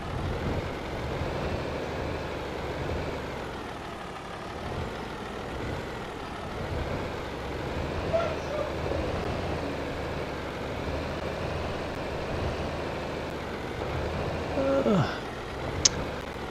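Tractor towing and reversing a trailer in Farming Simulator 25, a steady low diesel drone at a constant level with a brief hiss and a sharp click near the end, no voices.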